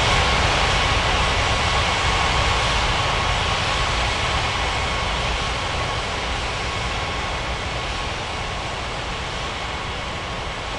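Aircraft engines roar steadily in an air traffic control mobile game set at a city airport with parallel runways, a continuous loud broadband drone with no voices.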